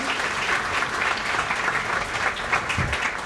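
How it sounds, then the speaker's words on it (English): Audience applause fills a business networking lunch, steady, dense clapping from a large crowd throughout, close and continuous with no talking. "But a round of applause."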